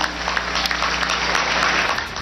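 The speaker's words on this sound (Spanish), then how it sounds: "Un aplauso, por favor, regálenos para los profesores" An audience applauds for teachers during a Peruvian television program, steady dense clapping that fills the short stretch at an even level.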